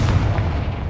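A Confringo fire spell bursting in Hogwarts Legacy, a short booming blast with a heavy low-end thump and crackling tail, loud and close, lasting about a second.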